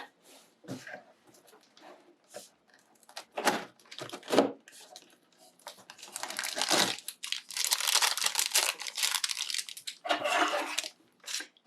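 Crinkling and crumpling of plastic and cardboard Funko advent calendar packaging, with bursts of tearing and rustling that grow denser and louder in the second half.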